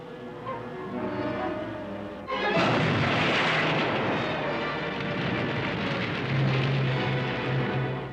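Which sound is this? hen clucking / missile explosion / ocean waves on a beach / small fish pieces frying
missile explosion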